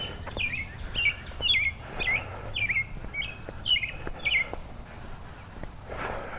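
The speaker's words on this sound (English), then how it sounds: "Got some birds trying to get on the podcast." Birds chirp outside in a repeating series of short, bright, close calls for about five seconds, over a faint steady background hum.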